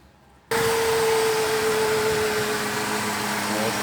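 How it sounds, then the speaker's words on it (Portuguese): The electric radiator fan of a Mercedes C 180 Kompressor switches on abruptly and runs with a loud, steady droning whine and hum that continues without a break. "Mercedes com barulho na ventoinha."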